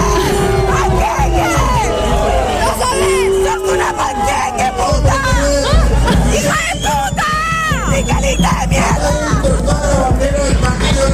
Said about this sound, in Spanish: donde se vivieron hermosos vítores para con la decisión tomada por Albarangas